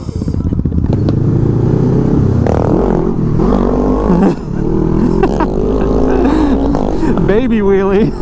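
Motorcycle engine revving hard as the rider pops a small wheelie near the Baltimore bridge collapse site, loud and continuous with rising and falling pitch sweeps, wind buffeting underneath.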